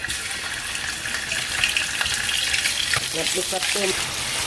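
Tomato paste fries in hot oil with a steady bright sizzle, stirred now and then, close and fairly loud, with brief voice sounds near the end.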